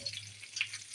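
Braided food frying in a pan gives a brief, close crackle of fine sizzling pops and hiss over a low steady hum, with no voices.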